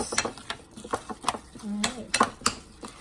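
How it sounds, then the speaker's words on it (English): Lasagna casserole ingredients seasoned with salt and pepper are stirred in a dish, with quick clinking and scraping strokes of a utensil, close and clear, while a voice speaks briefly. "I'm going to mix."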